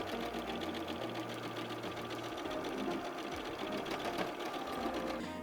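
A sewing machine runs steadily as it stitches the border of a meditation mat. The hum is even and continuous throughout, with no talking.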